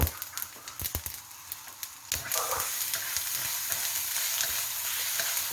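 Pounded ginger and garlic frying over high heat in hot oil, with sharp pops and crackles at first giving way to a steady, loud sizzle, close up with no talking.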